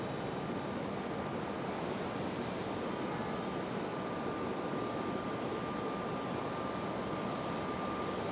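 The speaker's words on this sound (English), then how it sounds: "Copa coming from Panama City on a 737 MAX 8" A Copa Airlines Boeing 737 MAX 8 arriving from Panama City produces a steady, unbroken jet rumble with a thin high whine, constant in level throughout and heard alone without voices.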